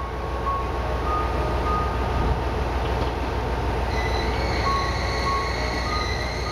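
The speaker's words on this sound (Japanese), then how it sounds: "続いて米子行きの普通列車、こちらもキハ121型でした。" A JR West KiHa 121 diesel railcar rumbles steadily nearby, with a constant low drone and faint high whining tones rising in the second half.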